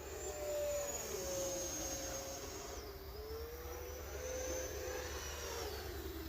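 An E-flite Viper 90mm EDF RC jet plane flies a loop, its ducted fan giving a steady whooshing whine whose pitch sweeps down then back up as it passes, heard from the ground at a distance.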